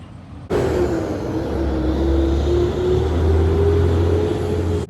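Car driving off on the road: a steady engine drone and road rumble starts abruptly and holds evenly from inside the vehicle, a faint whine rising slightly, then cuts off.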